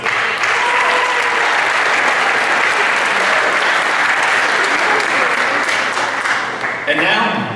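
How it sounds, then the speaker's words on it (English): Sustained audience applause at a college athletics awards night honoring student athletes and coaches, loud and steady clapping filling the room for several seconds before tapering off. "Another round of applause for all these awesome Roane State student athletes"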